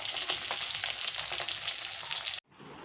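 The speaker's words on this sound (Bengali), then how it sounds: "এক খোলা মাছ ভাজা হয়ে গেছে। আবার আবার এই যে ভাজছি।" Fish fries in a pan with a steady, close crackling sizzle that holds for over two seconds, then cuts off abruptly to near quiet.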